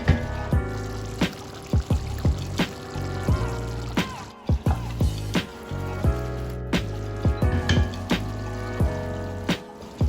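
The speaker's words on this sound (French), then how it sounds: "je rajoute une demi-tasse d'eau chaude et non de l'eau froide pour éviter de rompre la cuisson" Hot water poured into a thick onion and tomato sauce in a pot for thiebou yapp, with sputtering, gurgling splashes and bubbling pops arriving in an irregular series close by.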